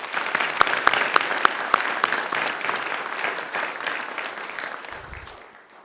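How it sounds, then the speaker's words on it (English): A university graduation audience applauds in a hall, a sustained round of clapping with a few sharp individual claps that fades away near the end. "I think she deserves another great round of applause"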